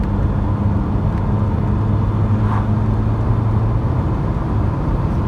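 Steady, loud car engine drone from inside a vehicle accelerating to overtake on a country road, a continuous close rumble with road noise and no talk.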